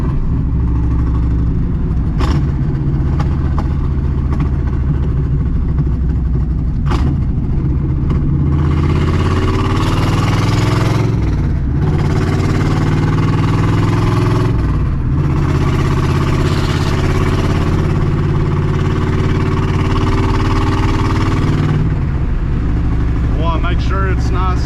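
A steady, rumbling car engine idles while warming up, its low throbbing tone holding even throughout with occasional small shifts in pitch, close and loud, while a person talks intermittently over it.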